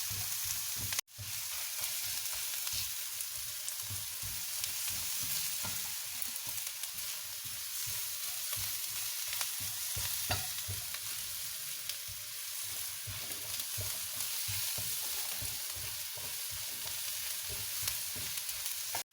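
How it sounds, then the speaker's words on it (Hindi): Garlic sautéing in a hot pan for lasagne, a steady close crackling sizzle with faint stirring scrapes throughout, no talking. "इसमें लहसुन भी डाल दिया है, इसको भी थोड़ा सोते कर लूँगी।"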